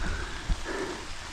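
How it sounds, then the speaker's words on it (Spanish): Rain falls on a forest road in the Atlantic rainforest during a bicycle trip, a soft continuous patter with one brief low thump. "Ya estábamos bastante húmedos ahora con esta lluvia."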